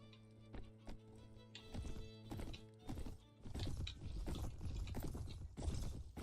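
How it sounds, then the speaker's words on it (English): A lame horse's hooves clip-clop in Mount & Blade Prophecy of Pendor, a rhythmic run of dull thuds over game ambience and soft mechanical clatter, growing denser and louder midway. "I had a lame horse."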